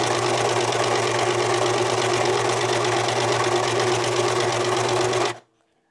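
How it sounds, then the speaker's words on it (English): A serger sewing machine runs loud and close with a continuous fast, buzzing whir for about five seconds, then stops abruptly into silence. "My serger's kind of loud."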